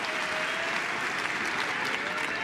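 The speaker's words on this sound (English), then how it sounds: "Crowd trying to get behind Muchova." Tennis crowd at the Roland-Garros women's final applauding steadily, a dense, even wash of clapping from a large stadium audience that holds level throughout.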